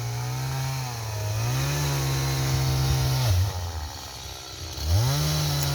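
A chainsaw cutting a tree roars loudly and continuously, its pitch rising and dipping as it revs and bogs down, with no voices.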